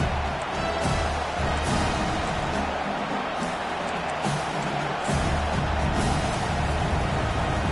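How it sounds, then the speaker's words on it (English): Stadium crowd at a football game roaring loudly and continuously, a dense wall of cheering and noise that swells and holds throughout. "Listen to this crowd just shaking the girders of this place, trying to help their defense."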